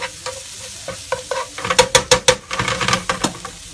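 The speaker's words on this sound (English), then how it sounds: "This is the base of our sauce, so we'll just give that a bit of a stir around." Garlic being stirred in a frying pan as the base of a sauce, with a steady sizzle under a run of scraping utensil strokes that build to several sharp, close clacks midway, alone with no talk.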